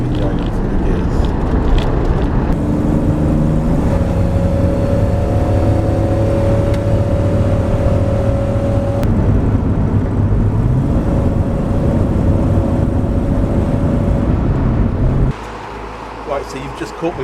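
A 1996 Jeep Cherokee XJ Limited with the 4.0 engine drives on cruise control as its automatic transmission shifts up through the gears. The engine hum is steady and the pitch rises and resets between shifts, then the noise drops sharply near the end.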